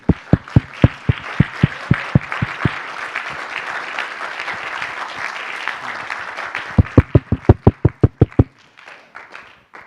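At the European Youth Energy Forum, the audience applauds the organizing team. Loud rhythmic claps in unison open it, then dense scattered applause follows, and another run of synchronized claps leads to a quieter close.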